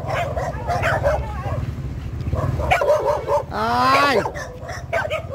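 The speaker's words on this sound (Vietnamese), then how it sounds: "tôi đem đồ ăn cho ăn mấy lần rồi sủa hoài" Several orphaned dogs bark, yip and whimper excitedly as food is brought to them, close and loud, with one rising howl-like whine, while someone talks over the commotion.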